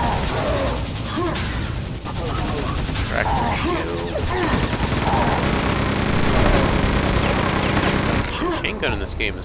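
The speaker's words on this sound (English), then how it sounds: "Chain gun in this game is so powerful." A chain gun in Quake 2 fires continuously in rapid, dense bursts with metallic crackle, filling the whole stretch at close range with little pause.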